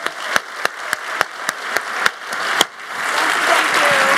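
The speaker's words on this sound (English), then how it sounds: "How about a round of applause with our guests?" A conference audience applauds its guests after an on-stage taping, starting with a single person's sharp, evenly spaced claps that then swell into broad, sustained applause from the whole room.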